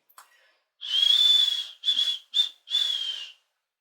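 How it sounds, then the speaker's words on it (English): A person whistles a short tune alone: one long held note followed by three shorter phrases, clear and fairly close, with brief pauses between. "He had to whistle whenever he wanted the pixie."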